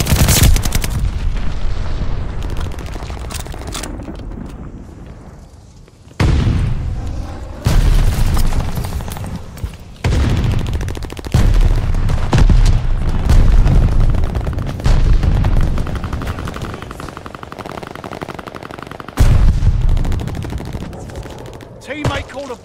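Glide bomber bombing run in Call of Duty: Vanguard on a hardpoint match, a string of heavy booming explosions and crackling gunfire, loud and close, with repeated blasts landing in sequence.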